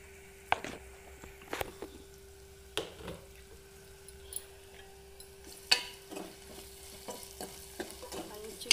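Tamarind leaf curry ingredients, dried fish among them, frying in a pan while a spatula stirs them, with repeated sharp scrapes and clinks over a steady low sizzle.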